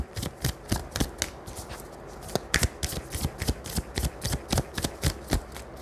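Tarot cards being shuffled close up, a quick series of sharp, rhythmic card slaps and riffles repeating steadily for several seconds with no speech over them.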